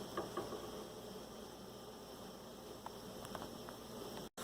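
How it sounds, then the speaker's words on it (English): Mustard and cumin seeds sizzle in hot oil in a pan, a steady close hiss with faint scattered pops and crackles throughout. "mustard seeds and our cumin seeds are cooked, and you can hear the sizzle."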